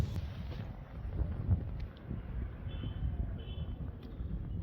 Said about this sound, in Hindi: तो हवा चल रही है काफ़ी अच्छी